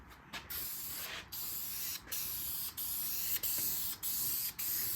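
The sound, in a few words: spray gun spraying a light coat of paint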